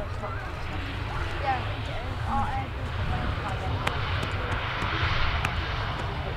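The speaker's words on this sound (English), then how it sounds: "Using a lot of runway, this BA." A British Airways airliner lands at Manchester Airport, its engines giving a steady, broad roar throughout while someone talks over it.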